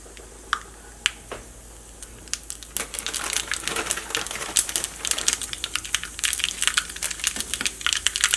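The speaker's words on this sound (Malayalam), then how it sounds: "അപ്പോൾ അവിടെ വെളിച്ചെണ്ണ നന്നായിട്ട് ചൂടായിട്ടുണ്ട്. ഇതിലേക്ക് നമുക്ക് കടുക് ചേർക്കാം." Mustard seeds crackle and pop in hot coconut oil as a peanut chutney is tempered. Sparse snaps build into a dense, loud run of sharp spluttering bursts.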